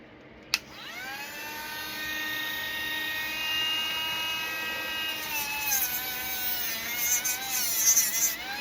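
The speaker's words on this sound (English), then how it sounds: "The bower is a much more aggressive rotary tool." Bower rotary tool working paper craft, a sharp click and then a high, whining motor spinning up and holding a steady pitch, with grinding bursts near the end as it cuts.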